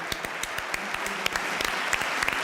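A short burst of clapping from several people, rapid and uneven, fairly close.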